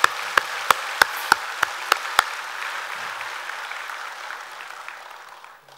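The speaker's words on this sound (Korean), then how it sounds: "그분들께도 다시 한번 격려의 박수 한번 부탁드립니다." Won Buddhist gathering's audience giving encouraging applause: a run of seven or eight sharp, loud unison claps at a steady beat, then a sustained wash of scattered clapping that gradually fades out.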